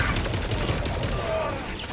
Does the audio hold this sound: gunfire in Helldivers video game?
yes